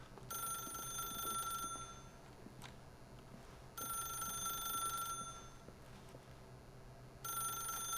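Telephone bell in The Stanley Parable video game rings in three long bursts with pauses between them, moderately loud over a low background hum.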